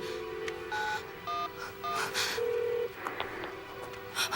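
Electronic touch-tone dialing beeps, a quick series of tones in short bursts, followed by a steady line tone and a brief crackle of connection noise.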